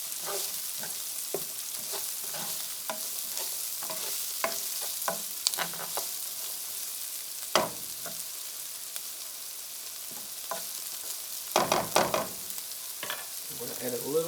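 Onions and garlic sizzle steadily in a hot pan, a continuous hiss broken by occasional louder bursts and scrapes of stirring, with no talking.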